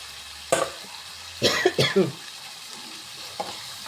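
A spoon scrapes and stirs chopped tomatoes into a sizzling prawn curry (konju theeyal) in a pan, in a few short close bursts over a soft frying hiss, with no talking.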